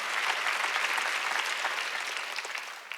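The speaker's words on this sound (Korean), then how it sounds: "박수." A church congregation at an Easter service claps together, a dense, steady wash of applause that fills the room for a few seconds and begins to thin toward the end, with no speech over it.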